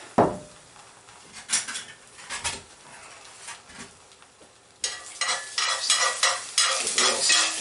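Reconstituted egg cooks in a pan while a utensil stirs and scrapes, giving irregular clatters over a sizzle that grows louder and busier partway through.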